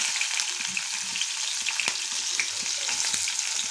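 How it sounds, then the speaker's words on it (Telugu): Onions and tempering spices sizzle steadily in hot oil in a pan, a continuous close frying hiss dotted with small pops and crackles. "ఆయిల్ పోస్తున్నాను పోప్ దినుసులు అయితే వేసుకుంటున్నాను ఆనియన్స్ యాడ్ చేసుకుంటున్నాను"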